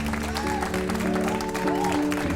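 A crowd claps at an engagement ceremony in a horror story: a continuous patter of applause mixed under sustained musical tones, moderately loud and steady.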